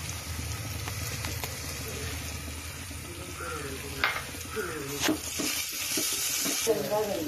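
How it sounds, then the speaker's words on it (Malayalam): Onions sautéing in a pan for a Kerala rabbit coconut fry, a steady close sizzle with occasional stirring scrapes and a voice talking intermittently over it. "ഇനി ഇതിൻ്റെ ഈ ഒരു ഉള്ളിയുടെ പച്ചമണം പോകുന്നവരെ ഇത് നല്ലവണ്ണം വാട്ടിയെടുക്കേണ്ടതുണ്ട്"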